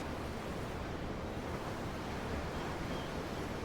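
Ocean waves in the video game Tales of Arise form a constant, even roar of surf and wind, fairly soft and unbroken, with no voices present.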